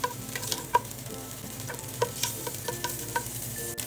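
Cooking oil and butter heating together in a pan, giving a soft, close crackle and sizzle with sporadic small pops and clicks over a low background hum.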